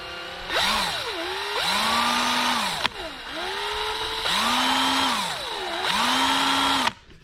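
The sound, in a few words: power drill slowly drilling bumper holes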